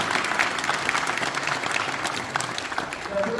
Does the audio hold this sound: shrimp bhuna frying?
no